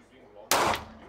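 A single sharp gunshot from a handgun fired at a shooting range, loud and close, with a quick decay after the blast.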